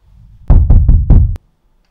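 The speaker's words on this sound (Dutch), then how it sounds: "Is natuurlijk het klopgeluid." Four firm knocks land on a door in quick succession, close and loud, followed by a sharp click and then quiet.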